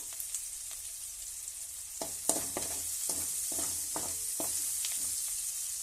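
Onion sizzling in hot oil with curry leaves and broken dried red chilli, a constant crackling hiss under a run of sharp spatula scrapes and taps against the pan, close by.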